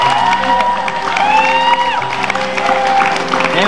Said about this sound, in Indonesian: Boleh minta tepuk tangan ya, Ibu?